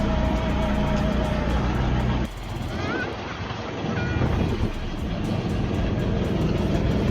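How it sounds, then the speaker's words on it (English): Go-kart racing with a parent and child aboard, heard as a steady loud engine drone mixed with rushing wind buffeting the microphone, briefly dipping midway before resuming. "here's a video of me and my son racing a go-kart."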